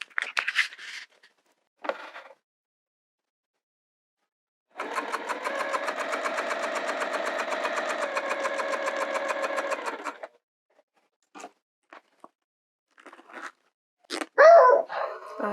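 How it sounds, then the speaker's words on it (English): A sewing machine stitches down a seam on a TPU vinyl zipper pouch, running steadily for about five seconds with a fast, even buzzing rhythm, framed by brief handling clicks and rustles before and after. "And now we're going to sew down"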